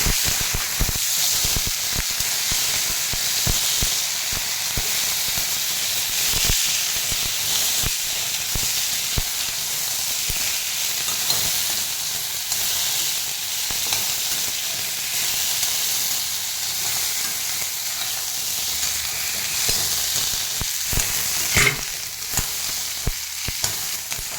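Mudavattukal and ginger sautéing in a pan, giving a loud, steady frying hiss that runs without a break, with faint stirring scrapes underneath.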